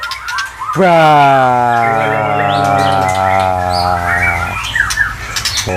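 A loud, close bird squawk rings out in a long, drawn-out harsh call, with faint clicks and rustles around it.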